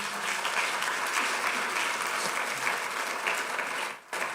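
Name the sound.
applause for Jesus in a church service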